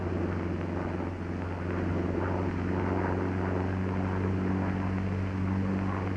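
A P-47 Thunderbolt fighter in flight, its propeller engine giving a loud, steady droning roar with a deep hum throughout, no talk over it.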